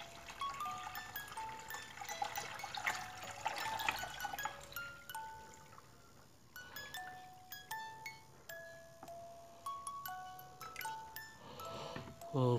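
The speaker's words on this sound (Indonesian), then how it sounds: "Jadi kita tambahkan dulu airnya" Water poured into the soil of a micro sakura bonsai pot, trickling and splashing at first, then a series of distinct drips and plinks at close range, with faint talk in the background.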